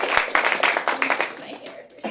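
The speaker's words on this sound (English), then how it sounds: "give yourselves a round of applause" Audience clapping in an auditorium at a youth talk, with scattered individual claps, some laughter and a voice breaking through, fairly close and uneven, fading briefly before a final burst.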